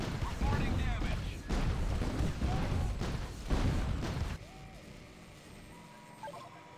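Bursts of gunfire and booms from the Art of War 3 strategy game play in repeated loud volleys for about four seconds, with game voice callouts over them, then fade to quieter interface tones.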